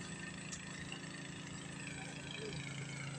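A motorized water pump runs in a vegetable garden, giving a steady, even mechanical hum with a constant drone that does not change in rhythm from start to finish.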